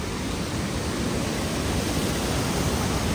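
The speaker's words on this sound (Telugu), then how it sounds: "ఫుల్గా వాటర్ సౌండ్ అయితే వస్తుంది" Water pours heavily over a waterfall in Martvili Canyons, Georgia, a dense, unbroken roar that fills the whole clip at steady loudness with no talking.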